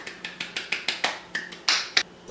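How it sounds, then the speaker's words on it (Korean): A single person claps for themselves in a home kitchen while making radish wraps, about a dozen quick, sharp, fairly close hand claps in an even rhythm over a quiet background. "나를 위한 박수."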